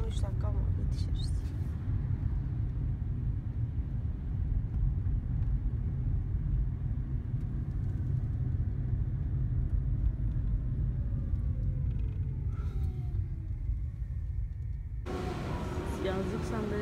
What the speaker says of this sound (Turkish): Niye bu kadar çok araba var?